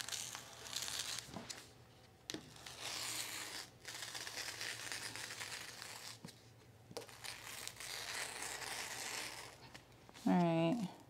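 Scissors cutting shirt fabric from a sewing pattern, heard as repeated close crisp snips and rustling cloth over a quiet room, with a brief voice near the end.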